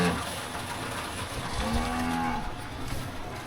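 A red cow lying in corn stalks on a Wisconsin farm lets out one low, drawn-out moo at moderate distance over steady outdoor wind and background noise.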